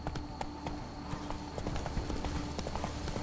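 Horse hooves gallop in a steady clip-clop rhythm in a video game, moderately loud and continuous against a busy game soundscape.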